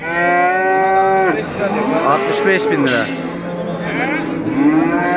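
A dairy cow at the Göksun livestock market in Kahramanmaraş lets out loud, drawn-out moos up close, with people talking briefly between the calls.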